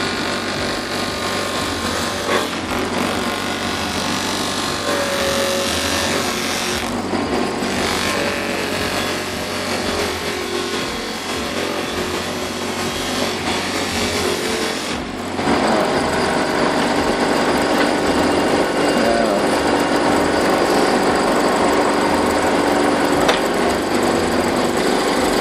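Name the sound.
bench grinder running with a homemade polishing wheel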